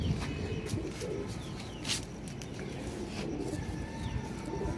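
Pigeons coo softly at a distance, low murmuring calls repeating under faint scattered chirps and rustle, with no voices.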